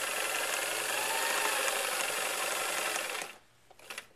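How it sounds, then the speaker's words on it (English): A sewing machine stitches two fabric pieces together along a seam, a fast steady mechanical whir that runs loud and continuous for about three seconds, then stops abruptly, followed by a couple of faint clicks. "I'm getting to the end of sewing these 2 pieces together."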